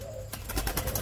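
A spotted dove, likely a female calling beside its mate, gives a run of close, low cooing notes in a steady pulsing rhythm, fairly loud against faint background noise.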